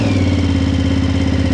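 A BMW F900 GS Adventure motorcycle engine running just after start-up, a loud close, steady rhythmic thrum with a low pulsing firing beat and slight mechanical clatter.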